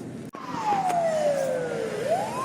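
A speeding ambulance siren on Bogatyrev Street in Yakutsk, one long wail falling steadily and then starting to rise again, loud and fairly close over street noise.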